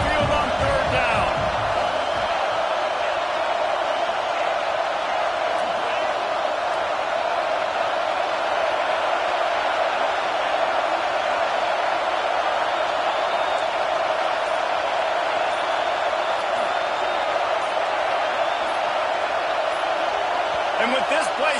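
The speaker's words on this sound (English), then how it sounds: "The Tide crowd rolling noise down on the Saban field on third down." A roaring home crowd in an NCAA football video game, Alabama against Clemson, a dense continuous wall of stadium noise on third down with a commentator talking over it.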